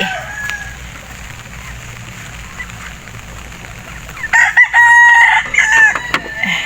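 A rooster crows loudly and close by, a long strained call after a stretch of quieter ambient noise and faint clucking.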